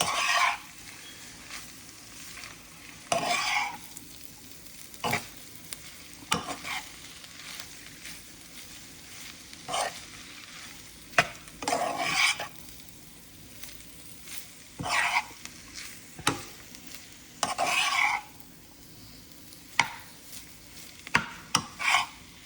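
Chicken pastel filling sizzles in a pan while a utensil stirs it, leaving a low frying hiss broken by repeated louder scraping bursts at irregular intervals, near and alone.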